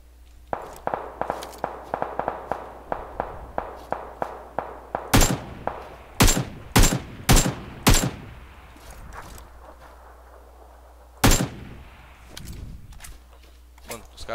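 Rapid footsteps then sharp distant rifle shots trading back and forth in a PUBG Lite squad fight, a cluster of loud cracks followed by a lone later shot.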